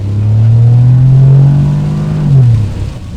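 A modified Lexus ES250 exhaust revs loud and close, a deep sustained drone that swells, holds, then rises in a second short blip before dropping off.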